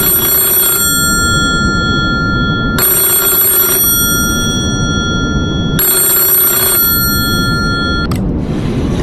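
An old-style telephone bell in a radio play rings loudly in three long bursts separated by short pauses, over a constant background hiss.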